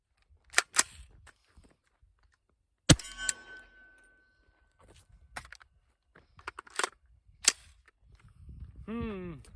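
Suppressed .300 BLK short-barreled AR-15 rifle, a Witt Machine & Tool Dirty 30, fired into dirt: a few sharp, muffled reports spaced irregularly, with action clatter between them, then a voice speaking at the end.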